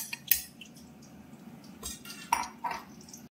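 Fried potatoes are tipped into a cooking pot of fatty mutton for Bengali mutton kosha, with close metallic clinks, a few sharp clatters and soft scraping against the pot. No one speaks.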